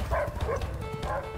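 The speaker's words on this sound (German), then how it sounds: "Scheiße, das sind die Hunde." Several dogs in the prison-escape game A Way Out bark in short, repeated bursts, fairly faint and slightly distant, over a low background hum.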